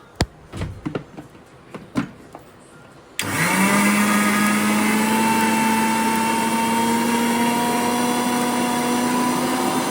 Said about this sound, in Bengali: এটা আর একটু গুঁড়ো করবো, তারপর এটাতে জল দেবো